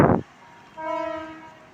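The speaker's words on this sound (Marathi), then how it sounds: "गाडी दिसते आपली प्लॅटफॉर्मला लागली आहे" A brief thump is followed by a train horn sounding a steady, sustained tone at moderate distance over low rumbling, as a Ratnagiri passenger train arrives at a station platform.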